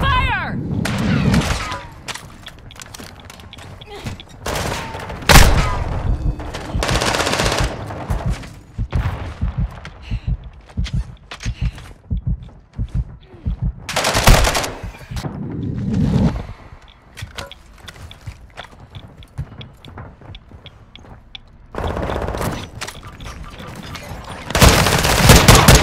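Gunfire in Call of Duty DMZ at Building 21: repeated loud bursts of automatic fire and heavy booms, coming in clustered volleys with short quieter gaps between them.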